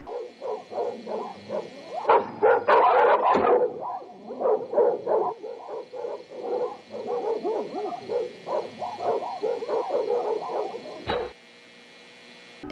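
Dogs bark in kennels in the video game Greylock. A restless run of barks, yips and howl-like cries repeats nearby, swells into a frantic burst early on, then carries on steadily before cutting off abruptly.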